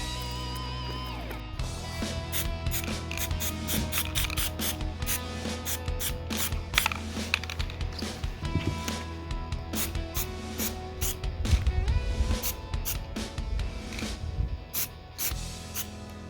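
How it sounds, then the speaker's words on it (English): Spray painting a C3 Corvette cooling fan, with close hissing bursts of spray repeating in quick, irregular pulses over steady background noise for the whole stretch. "Now to finish up the paint on this fan."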